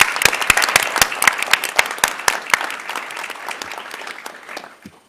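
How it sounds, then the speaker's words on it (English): A school district community forum audience breaks into a round of applause, dense overlapping claps from a roomful of people, strong at first and then gradually thinning and fading out over about five seconds, with no talking. "could I ask everyone to give a round of applause to Ms. Radosh and the students who planned this all on their own"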